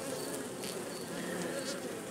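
Honeybees buzz steadily around an open hive frame, a continuous close drone filling the air without pause or talk.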